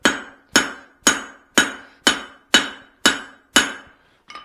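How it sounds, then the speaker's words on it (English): Eight evenly spaced, ringing metal blows of a hammer on a swage set on an anvil while forging a Swedish-style cross peen hammer head, each strike loud and close with a sharp decay, and a lighter final tap. "I'm using the swedge because I don't want to flatten out those cheeks I just made. I'm keeping the hammer face off the anvil."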